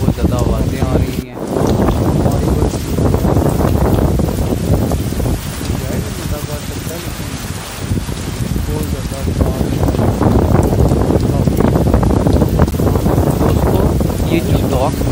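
Heavy rain and strong wind lash the docks in stormy weather, a steady loud roar of downpour and gusting wind noise battering the microphone throughout, with a voice talking over it.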